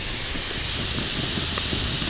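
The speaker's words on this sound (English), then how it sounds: "you can probably hear that wood, the water boiling out of that wood" Water hisses and boils out of a burning Swedish fire torch log, a constant loud steamy hiss with faint crackles and small pops scattered through it, close by and uninterrupted by speech.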